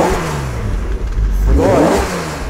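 A BMW Alpina B6 engine runs close by with a steady throb. The driver blips the throttle once, so the revs swell and then settle again.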